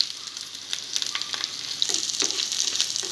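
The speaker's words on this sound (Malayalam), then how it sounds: "അപ്പോൾ എണ്ണ ചൂടായി വന്നിട്ടുണ്ട്. അപ്പോൾ നമുക്ക് ഉണക്കമുളകും അതേപോലെ തന്നെ വെളുത്തുള്ളിയും ഉള്ളിയും ഞാൻ ഇതിലേക്ക് ചേർക്കുന്നുണ്ട്." Dried red chillies, garlic and onion hit hot oil for a salted-mango chammanthi, producing a close, lively sizzle. Sharp crackles and spitting pops burst through it irregularly, growing busier toward the end, and no one talks.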